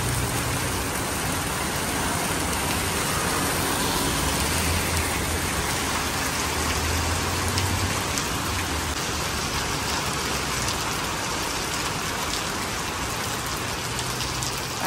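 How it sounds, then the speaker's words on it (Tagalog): Heavy rain pours down in a dense, steady hiss around a wet market in Pasir Ris, Singapore, loud and unbroken for the whole stretch. "Malakas ang ulan guys."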